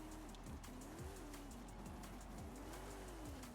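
A #11 Ford Rockstar truck races on dirt in Forza Horizon 5, its engine droning and revving in rising and falling sweeps, steady and close, with repeated low thumps as it rolls over bumps.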